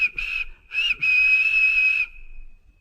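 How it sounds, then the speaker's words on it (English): A steam locomotive's whistle sounds on a railway line past a field, two short toots and then one long sustained blast that fades out, loud and close with no talk over it. "James whistled at them, but they paid no attention."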